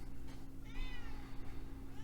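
A cat gives a single drawn-out meow over a steady low hum, close by and moderately loud.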